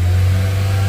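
A car engine is held at a steady 3000 RPM while an unstable, misfiring idle is diagnosed, giving a loud, constant hum with a strong low drone and no change in pitch through the short moment.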